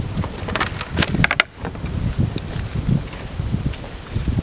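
Honey bees buzz around an open beehive as they are swept off the top bars, a close, busy hum with scattered brushing scrapes and a brief thump partway through.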